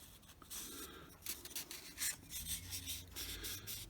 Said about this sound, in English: this is the edge where they ask you to chamfer it down to suit the profile of this rib here